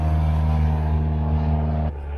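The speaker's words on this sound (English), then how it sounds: "the garbage truck is gone and the planes have subsided" A heavy engine drone holds steady and loud outside, a garbage truck or passing airplane rumbling continuously, then cuts off abruptly and leaves a quieter background rumble.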